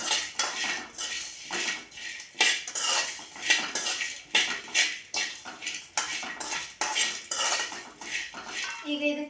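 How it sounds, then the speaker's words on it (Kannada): A spoon stirs masala tomato chutney in a pan, giving repeated metallic scrapes and clinks in an uneven rhythm, close and fairly clear, with no talking. "ಇದನ್ನು ಕೂಡ ಚೆನ್ನಾಗಿ ಹುರ್ಕೋಬೇಕು."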